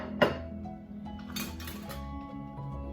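A spoon clinks against a pot of beef barley soup during a quick stir, one sharp metallic knock followed by softer scraping and faint clinks, close and alone.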